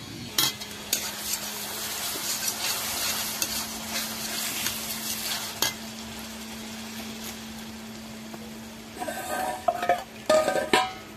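A paste of ginger, garlic, red and green chillies, cumin and coriander fries in a pan with a close, crackling sizzle, while a spoon scrapes and stirs it repeatedly over a faint steady hum, ending in a few louder clattering knocks.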